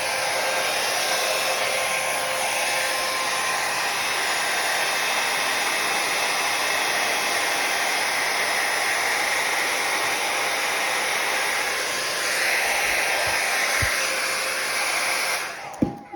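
A hair dryer on low heat blows over fluid acrylic paint on a small convex canvas, a loud, steady whooshing hum that runs unbroken before cutting off with a click at the end.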